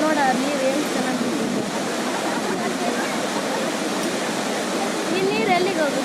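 Barachukki and Gaganachukki waterfalls roar as a steady, dense wash of rushing water, loud and continuous throughout, with a faint voice partly buried beneath it.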